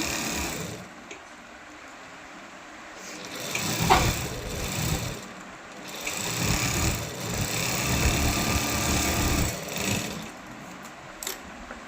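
A sewing machine runs a double line of stitching on a top, its motor humming steadily and rising in bursts through most of the stretch, close up with no talking.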